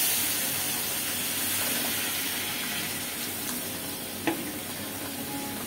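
Hot water poured into a pan of frying young radish greens, giving a steady broad sizzle and hiss of steam throughout, with a brief sharp spatter near the end and no talking.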